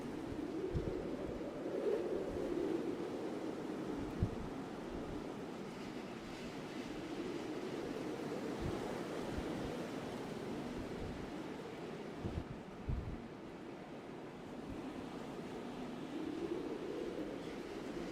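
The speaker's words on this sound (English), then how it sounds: "It's a pretty decent wind gust there." During a severe thunderstorm, wind gusts rush and roar in broad, rolling swells that rise and fall several times. The sound is faint to moderate, with occasional low knocks and no speech.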